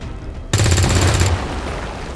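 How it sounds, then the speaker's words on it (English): A single loud weapon discharge in XCOM 2, a sharp blast that rings out for under a second before fading into a low rumbling tail. "Let's fire the weapon."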